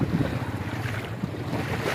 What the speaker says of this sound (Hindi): और पानी बहुत बहाव है।